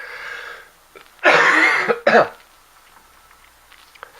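Two harsh coughs close to the microphone, one long burst followed by a shorter one, in an otherwise quiet room.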